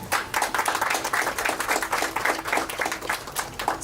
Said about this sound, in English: give a great round of applause for our committed team here